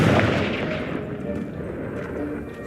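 Confringo blasting spell going off in Hogwarts Legacy, a loud burst of rumbling, crackling debris that fades into a dense, lingering rubble-like roar with a low, sustained tail.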